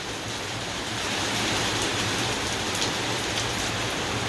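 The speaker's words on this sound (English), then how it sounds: "Just heavy rain." Heavy thunderstorm rain pours down in a dense, steady roar of drops striking surfaces, loud and unbroken throughout, with no voices.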